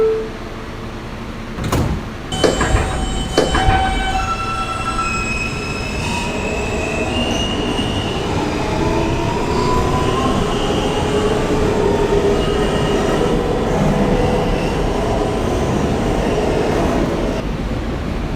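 A New York subway F local train bound for Coney Island–Stillwell Avenue is heard up close: a sharp clunk, then a rising whine of traction motors and squealing wheels as the car pulls away, followed by a steady rumble.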